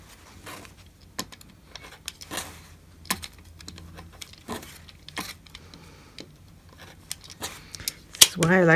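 Scissors snip through quilting fabric in a run of sharp, irregular cuts, close and fairly quiet, with a brief louder rustle near the end.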